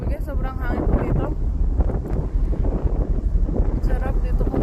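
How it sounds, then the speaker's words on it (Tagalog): Strong wind buffets the microphone on the deck of a 2GO passenger ship at sea, a loud, steady roar with gusty rumbling that persists throughout while people talk over it. "sobrang hangin po dito"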